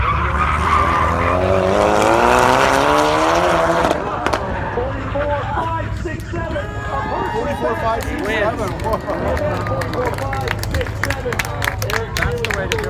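Cars spin autocross donuts at the Goodguys 2021 Del Mar car show, with loud sustained tire squeal and engine roar that swell and fade, and voices talking over the noise.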